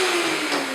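A Festool Domino joiner cuts a slot in wood, giving a steady close motor whine with a high hiss for under a second.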